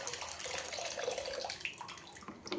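Water is poured into a cooking pot, giving a faint, continuous splashing trickle with a few brighter drips.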